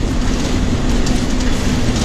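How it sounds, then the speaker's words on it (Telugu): A bus pulls out of Tenali bus stand, its engine a steady, loud low rumble with constant road and body noise throughout, no voices. "తిరిగి బస్సు కొత్తూరులంక బయలుదేరుద్ది"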